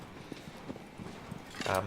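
Horse galloping in the video game Shadow of the Colossus, a faint rhythmic patter of hoofbeats repeating steadily under speech, swelling into a louder burst near the end.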